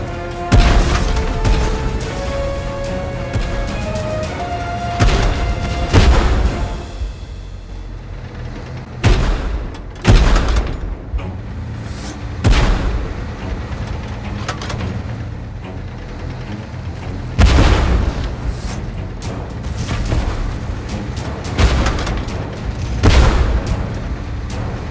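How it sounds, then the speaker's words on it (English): Artillery bombardment in a 2 vs 2 video game match, with loud, heavy booming explosions landing one after another over a constant rumble, some blasts sharper and nearer than others. "Under bombardment!"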